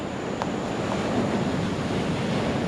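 Ocean waves breaking on a beach, heard as a steady wash of surf mixed with wind buffeting the microphone, continuous and moderately loud with no talking.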